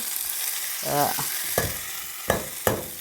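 Hot oil sizzling softly in a pan as a tempering fries for an okra pachadi, broken by a few sharp scrapes and clinks of a spoon stirring, close up.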